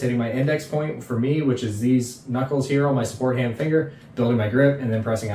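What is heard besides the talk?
No everyday noises stand out.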